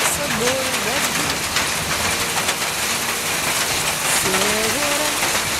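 Steady rain with hail pours down outdoors, a dense continuous hiss of drops striking surfaces throughout, with a person speaking briefly over it near the start and again near the end.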